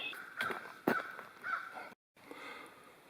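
Several crows caw in a forest along a trail in the Mount Rogers National Recreation Area, with a few separate harsh calls at moderate distance over a quiet background.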